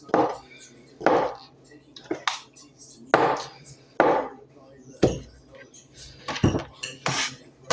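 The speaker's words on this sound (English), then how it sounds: "go back and cut them into minced pieces" A knife mincing food on a cutting board, its sharp chops landing in uneven bursts of roughly one per second, close and distinct, with a voice talking between the strokes.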